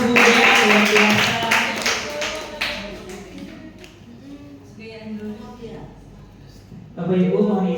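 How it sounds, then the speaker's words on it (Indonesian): Audience applause for presenters Bu Tia and Bu Dea at a school teacher dissemination session fills the first few seconds with dense clapping. It fades into quieter room sound, and a short loud burst follows near the end. "Tepuk sekali untuk Bu Tia dan Bu Dea"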